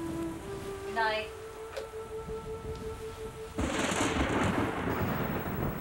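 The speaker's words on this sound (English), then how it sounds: "It's only thunder, Mom." Thunder in a nighttime storm scene from a TV drama: a broad, loud rumble surges in about halfway through and holds to the end, after a quieter stretch with faint steady tones.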